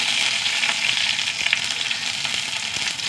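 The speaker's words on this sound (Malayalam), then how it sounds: "കുറച്ച് എണ്ണ വെച്ച് കൊടുക്കട്ടാ എണ്ണ ചൂടാവട്ടെ കുറച്ച് കടുകിട്ടാ രണ്ട് വറ്റൽമുളക്" Mustard seeds and dried red chilies sizzle steadily in hot oil in a pan, a close, loud, continuous frying hiss with faint pops and no talking.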